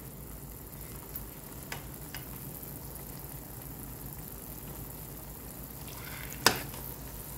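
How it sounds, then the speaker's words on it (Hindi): Pumpkin halwa cooks in a pan with a low, steady sizzle and bubbling, while occasional light scrapes from constant stirring build to one sharp spoon clatter near the end. "इसको हिलाते रहें मुसलसल ताकि लगे नहीं"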